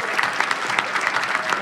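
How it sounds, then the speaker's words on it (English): A brief burst of dense audience applause at an election victory speech, many hands clapping loudly and evenly for under two seconds. "I want you to give a round of applause to my opponent, Dana Balter."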